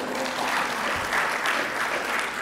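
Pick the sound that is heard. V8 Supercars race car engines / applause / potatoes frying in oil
applause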